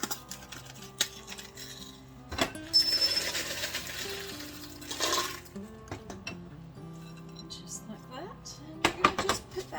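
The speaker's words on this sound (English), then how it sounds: "now I'm just going to mix this up and get these peanuts real good and coated" Peanuts being stirred into an egg-white mixture in a bowl, with scattered clinks and scrapes of a utensil against the bowl, louder bursts at the start and end, and a person talking throughout.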